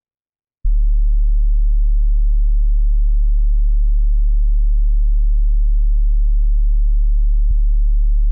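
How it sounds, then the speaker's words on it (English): A deep, steady sub bass synth tone starts abruptly after a short silence and holds evenly, loud and pure, with a faint click near the end. "And the sub bass."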